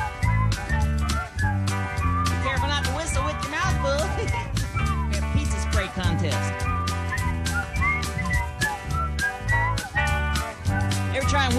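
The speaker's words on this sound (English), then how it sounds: "everybody, whistle up here" Whistling carried along by the band music of the Rock-afire Explosion animatronic stage show, a steady tune with drums and instruments running loud and continuous underneath.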